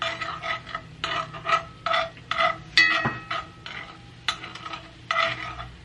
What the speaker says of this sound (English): So again, I'm just going to stir this.